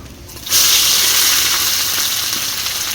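Onions hit hot oil in a wok already holding bay leaf, dried red chili and black cumin, setting off a sudden loud sizzle that stays strong and steady for the rest of the moment.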